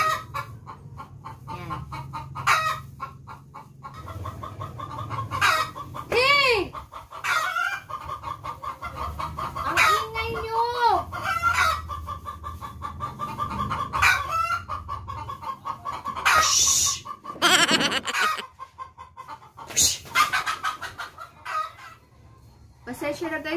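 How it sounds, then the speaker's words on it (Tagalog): Chickens cluck and squawk repeatedly nearby, with a rooster crowing partway through, over steady background noise. "ang ingay ng mga manok"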